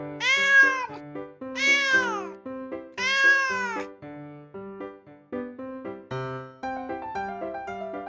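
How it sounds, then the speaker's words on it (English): A cat meowing: three loud, drawn-out meows in close succession, followed by softer, shorter mews, all close up and clear. "Cat."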